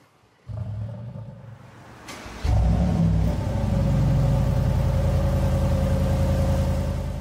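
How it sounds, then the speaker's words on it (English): Mercedes G700 fitted with an Urban exhaust, running in comfort mode: an engine starts and settles into a deep, loud rumble, then swells into a sustained roar with rising revs, close and with no speech. "show you what this car sounds like with the Urban exhaust on it"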